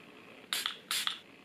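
Two quick hissing spritzes from a makeup setting spray bottle, close by, about half a second apart, with quiet around them.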